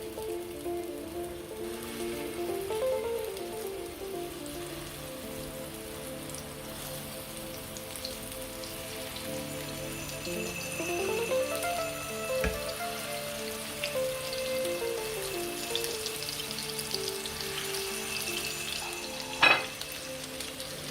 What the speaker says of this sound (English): we're going to put our meatballs into the frying pan